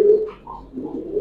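A pigeon at a farm selling high-flyer and fancy breeds gives a short, low coo close by, rising and falling once with no other sound around it.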